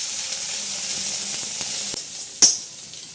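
Garlic, green chili and coconut frying in groundnut oil in an iron kadhai, a steady close hiss of sizzling with a brief sharp crackle near the end.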